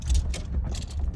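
Metal clothes hangers rattle and clink on a rack in the back of a truck driving over a rocky road, a steady jangle over low road rumble.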